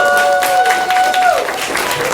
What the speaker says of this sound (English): Let's give us a round of applause for that.